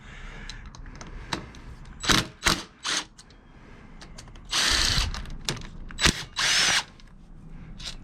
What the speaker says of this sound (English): next you're gonna loosen the crankcase bolts